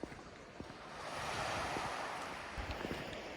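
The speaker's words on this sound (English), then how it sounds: "You get that lovely sound of the water on the pebbles." Waves wash steadily over a pebble beach on the east coast of Scotland, swelling louder through the middle, with a soft breeze and occasional light clicks of pebbles near the water's edge.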